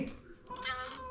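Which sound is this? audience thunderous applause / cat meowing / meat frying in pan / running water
cat meowing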